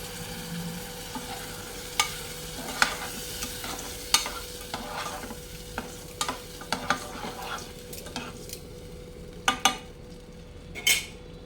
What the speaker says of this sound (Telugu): ఇందులో కొంచెం చింతపండు పులుసు వేసుకుందాం